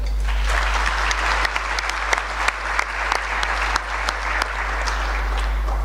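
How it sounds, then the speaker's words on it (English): A steady round of applause from a conference audience welcoming a panel at the Singapore Perspectives 2016 forum, sustained and moderately loud with individual claps standing out over a low constant hum. "could have a round of applause for them"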